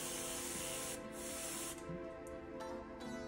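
Airbrush spraying steadily on air from a Makita MAC100Q compressor set to about 25 psi, a continuous close broadband hiss with slight flutters as the gun spits and spatters.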